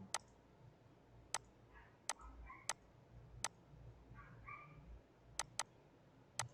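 Sharp, quiet computer mouse clicks while filling in a form, about eight spaced irregularly, some in quick pairs, over faint room hum.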